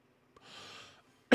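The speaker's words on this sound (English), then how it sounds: "Sorry for the cough." A single short cough from a person seated at a mic, one sharp burst after a soft breath.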